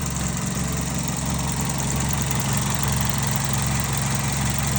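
A 2001 Chevy Prizm with a 1ZZ-FE engine and nearly 192,000 miles idles quietly and steadily, with a smooth, even low hum running the whole time and no talk over it.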